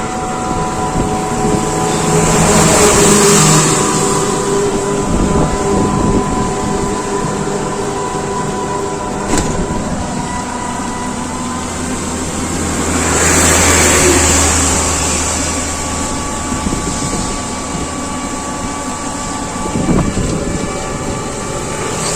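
Electric toto rickshaw driving on waterlogged roads after heavy rain at night, with a continuous close rumble and rolling noise, splashy hiss rising in two swells and faint clicks. No speech is heard.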